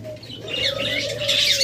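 Pied and white doves kept in pairs for sale coo softly nearby in a short, continuous burst mixed with light chirping.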